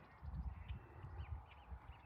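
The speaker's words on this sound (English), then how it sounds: "I love waking up to the sound of birds." Birds call in the morning at a remote campsite, faint caw-like calls and chirps carried over a low, uneven rumbling background, quiet and somewhat distant.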